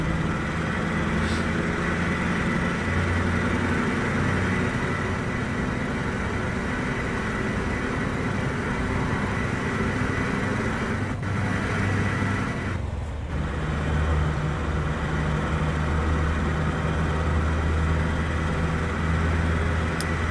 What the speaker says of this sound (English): most of their engines have a really heavy engine sound, but not so much in the turbo field